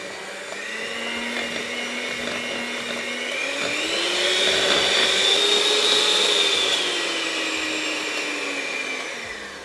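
Electric hand mixer whirring through ricotta cream with sugar and lemon juice, a steady loud motor drone whose pitch rises slightly in the middle then settles, alone without talk.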